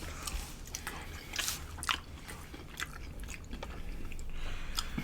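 Crunchy deep-fried king crab legs and lobster tails being bitten and chewed up close, giving a run of sharp, crisp crunches and wet chewing noises with no talking.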